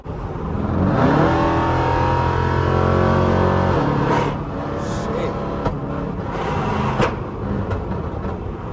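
A 5.7 Jeep engine revs loud and close during a night drive, a long rising, sustained roar for about four seconds that then eases to a steadier rumble with a few sharp pops, while a voice talks over it.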